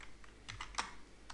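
Soft typing on a computer keyboard, a handful of light, uneven key clicks fairly close by, with quiet pauses between them.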